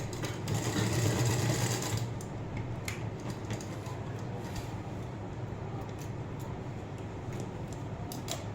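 A sewing machine runs steadily, lock-stitching a blouse, with a louder whirring burst at the start before settling into a continuous even hum up close.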